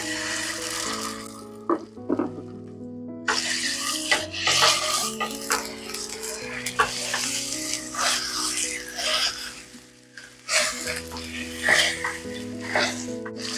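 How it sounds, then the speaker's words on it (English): Italian sausage fries in an oiled pan, giving off a soft steady sizzle broken by clinks and scrapes of a utensil against the pan, with background music throughout. "And then we're gonna start cooking the sausage"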